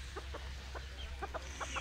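Hens in a backyard flock give a series of soft, short clucks in irregular bursts, fairly near, over a steady low hum of background noise.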